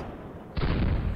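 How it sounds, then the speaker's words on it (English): Artillery firing in the Panzer Campaigns Stalingrad '42 wargame: a sudden loud, broad boom partway through that sustains as a rough, rumbling roar. "These guys definitely need artillery support here."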